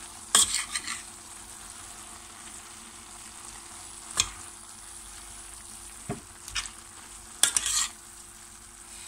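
Ingredients sizzle in a pan on the stove, with a steady low hiss and a handful of spaced clattering stirs and scrapes of a utensil against the pan, close by.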